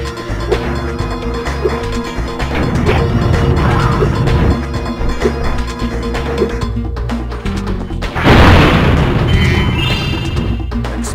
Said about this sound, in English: So we'll want to actually destroy the sarcophagus.